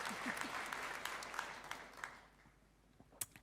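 An audience applauds at the Olof Palme Prize 2024 award ceremony. Dense, moderately distant clapping thins out and fades to near silence, with a few stray claps at the end.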